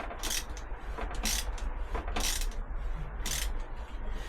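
Ratchet slackening the fork yoke bolts on a Triumph Tiger 800 motorcycle, giving four bursts of bright clicking spaced about a second apart over a steady low hum, fairly close.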